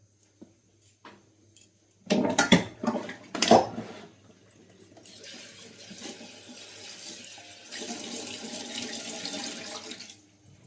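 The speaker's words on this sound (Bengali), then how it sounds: "এই শাকটা ধুতে হবে, ওয়াশ করতে হবে।" Leafy greens are washed under a running kitchen tap, opening with a few bursts of splashing and handling, then settling into a steady stream of water spilling into the sink.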